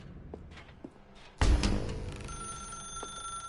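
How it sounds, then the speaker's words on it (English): In the video game The Stanley Parable, a telephone starts ringing after a sudden loud clunk, its bright sustained electronic ring continuing through the rest of the clip over a faint room hum. "Pick up the phone, and it will take us back home"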